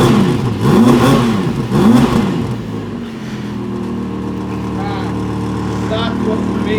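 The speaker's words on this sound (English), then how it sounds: "That V10, not twin turbo, naturally aspirated." Naturally aspirated V10 engine of a 2020 Audi R8 revving hard in two sharp, rising bursts, then settling into a steady idle rumble, close and loud.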